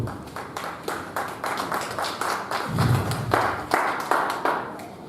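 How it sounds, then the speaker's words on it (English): A church congregation claps hands during a worship service, a run of sharp, fairly regular claps, close and lively, with a brief low thump partway through. "Clap your hands and celebrate God."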